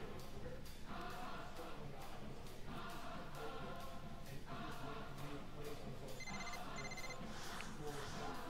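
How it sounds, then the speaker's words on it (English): A telephone rings in NCAA Basketball 10 dynasty mode, two short electronic bursts near the end over a steady game background that runs throughout. "I heard the phone ring."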